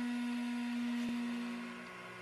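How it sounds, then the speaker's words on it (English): A small electric motor whirs with a steady, high-pitched hum, its pitch dropping as it slows down, then cuts out partway through, followed by a fainter lingering drone. "Motor, you can hear the note. It's dropping, slowing down."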